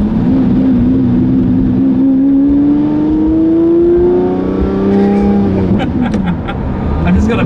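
A Lamborghini Murcielago's engine drones steadily while being driven gently, its pitch rising slowly under acceleration, loud and close from inside the car, then dropping with a gear change near the end.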